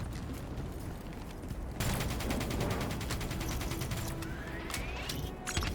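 A minigun fires during Call of Duty Black Ops 3 gameplay, a continuous rapid rattling stream that starts abruptly and roars on steadily, with explosions and battle noise around it, loud and close.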